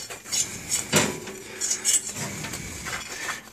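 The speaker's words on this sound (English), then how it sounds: "So we'll just go under here a bunch of times with the fork." A metal fork scraping and clinking under food in a skillet, several short scrapes and taps at close range over a low background sizzle.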